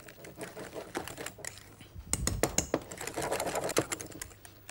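Strawberry soufflé mixture whisked briskly in a bowl until smooth, a rapid run of close, light ticking strokes that grows busier midway, with a voice speaking at points.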